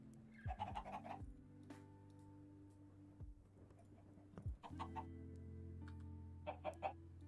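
Chickens cluck in the Minecraft modpack Stoneblock 2, a few short, quiet, clipped game clucks scattered across the clip over a low steady background, with no talking.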